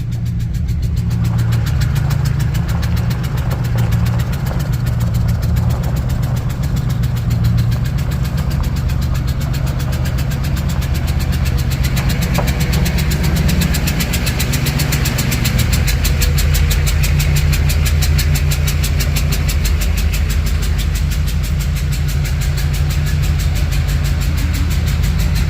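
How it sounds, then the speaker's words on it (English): A Duramax diesel truck engine idles steadily at low throttle while the truck creeps slowly forward, a loud, continuous low rumble close by, running on without any talk. "Trying to idle her in with the least amount of throttle as possible"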